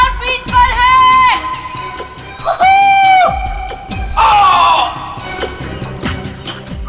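A man screams in midair during a parachute jump at about 5000 feet, some 15 seconds after leaping: three loud, drawn-out wailing cries in a row, rising and wavering, over rushing wind noise.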